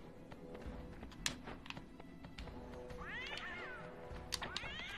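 A cat creature in the game Sphinx and the Cursed Mummy gives two rising, warbling meows in the later part, over a busy bed of game sounds with clicks and steps.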